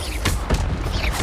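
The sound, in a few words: Incendio spell cast in Hogwarts Legacy video game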